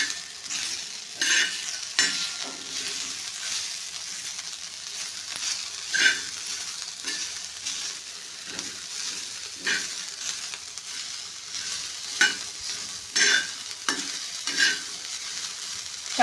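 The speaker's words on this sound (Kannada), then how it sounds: "ನೋಡಿರಿ ಇವಾಗ ಕರ್ಚಿಕಾಯಿ ಹುರಿತಾ ಇದ್ದೀನಿ" Karchikai, sweet dumplings, fry in oil in a pan, with continuous crackling sizzle broken by repeated scraping stirs of a utensil against the pan, close up and with no talk.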